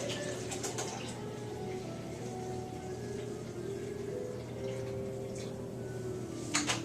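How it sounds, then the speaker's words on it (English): Reclaimed yellow indicator stop bath for film developing poured into a pitcher: a steady, moderately quiet trickle of liquid that runs unbroken for several seconds, ending in a few brief splashy bumps. "I'm just simply going to pour 24 ounces of stop bath into my pitcher"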